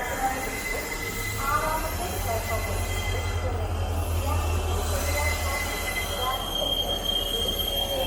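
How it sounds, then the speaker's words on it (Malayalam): The Nilambur–Kochuveli Rajarani Express pulls into a station platform, its wheels squealing loudly with rail rumble and a steady low locomotive drone, while voices talk over it. "നിലമ്പൂർ കൊച്ചുവേളി രാജറാണി എക്സ്പ്രസ് ആണ്"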